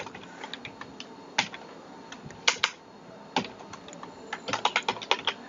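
Keys clatter on a computer keyboard while code is typed, sparse single taps giving way to quicker bursts of clicks, close and fairly crisp, with no talking.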